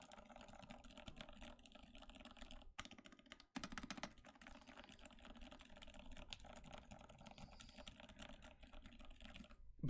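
Quiet, steady typing on a Jae-built Iron 165 mechanical keyboard, with a close, continuous patter of soft keystrokes and brief pauses.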